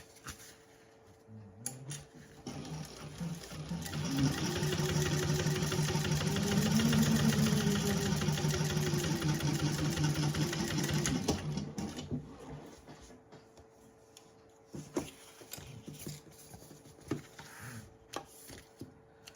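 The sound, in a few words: sewing machine top stitching a candy bag lining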